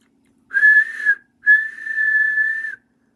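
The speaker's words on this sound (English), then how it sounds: "And he blew his whistle." Two shrill train whistle blasts, a short one followed by a longer sustained one, loud and close with no other sound.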